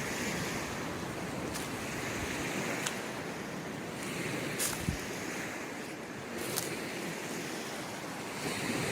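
The high, flooding Greenbrier River rushes past in a steady broadband roar, with wind buffeting the microphone in occasional gusts.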